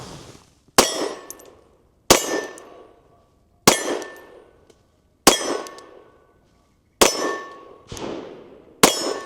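A Bodyguard 2.0 pistol fires .380 ACP rounds, six sharp loud reports spaced about one and a half seconds apart, each ringing briefly before fading, with no talk.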